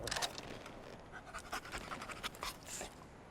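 A companion dog in the video game Remnant 2 pants in quick, soft, breathy bursts, fairly faint and steady throughout, with no talk over it.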